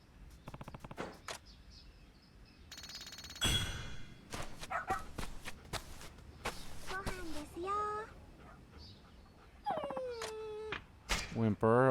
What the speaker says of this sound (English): Whimper. Okay, he's whimpering.